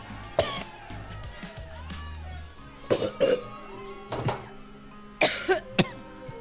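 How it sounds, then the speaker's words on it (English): A woman coughs in a played recording, several harsh separate bursts spaced a second or two apart, moderately loud over a faint background murmur. "this is the longest coughing clip ever"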